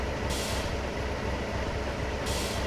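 A locomotive rolls in hauling a few freight trucks in the Trainz train simulator game, a steady loud rumble with a hissing air-brake release at the start and end.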